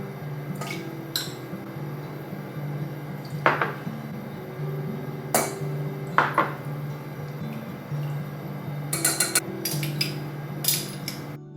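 Small pot handled in a home kitchen while making ponzu Hamburg steak sauce: scattered light metallic clinks and knocks over a low steady hum, several sharp taps spaced irregularly, fairly quiet and close.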